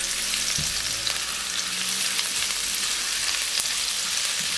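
Garlic frying in a pan while a pepper chicken and broccoli dish is cooked: a loud, continuous close sizzle with occasional scraping stirs, and no voices.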